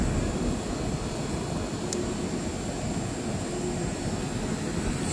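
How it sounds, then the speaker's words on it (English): Two HVAC inverter compressors run together in a steady, loud, broadband roar with a constant hum, unchanging throughout, with one brief click partway; no voices. "So at the moment I've got both inverter compressor 1 and inverter compressor 2 running."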